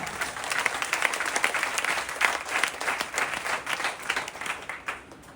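A large temple audience at a patotsav festival in Vadodara claps with raised hands, producing dense, sustained applause that rises and falls slightly, with no speech over it.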